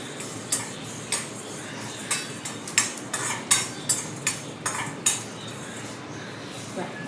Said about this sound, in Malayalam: ഇനി നമുക്കിതിലേക്ക് കടുക് ഇട്ട് കൊടുക്കാം